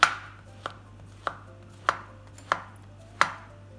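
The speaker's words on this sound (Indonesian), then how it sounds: "Potong-potong seperti ini." Half a slab of tempeh being cut into pieces with a knife on a board, six sharp, evenly spaced chops about half a second apart, close and clear over a faint steady hum.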